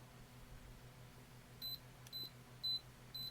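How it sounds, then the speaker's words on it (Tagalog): A Canon T50 film camera's self-timer counts down with short electronic beeps, four sharp, evenly spaced bleeps over a faint steady hum, close and fairly quiet, with no talking. "Self timer, probably 10 seconds din yan."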